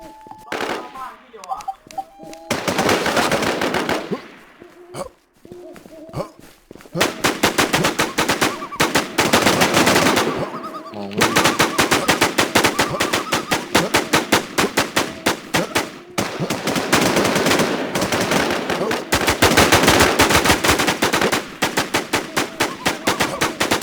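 Gunfire in the video game Infestation: dense bursts of rapid automatic fire, loud and nearly continuous with brief pauses, while players talk excitedly over it.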